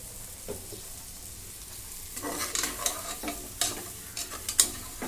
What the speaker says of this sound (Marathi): आता हे परतून घेते मी 2 मिनिटं मोठ्या गॅसवरती.